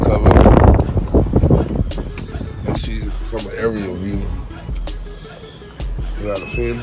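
Strong gusting wind during Hurricane Ida buffets the microphone outdoors, rough and loud at the start, then easing under someone talking.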